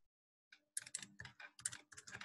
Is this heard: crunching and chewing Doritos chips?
no